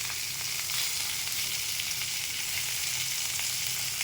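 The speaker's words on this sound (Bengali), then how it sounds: "তেলের মধ্যে এখন মাছটা ভাজা দিয়ে দেব।" Rohu fish frying in hot oil in a pan: a steady, dense sizzle that holds at an even level throughout, close and fairly loud, with no voices.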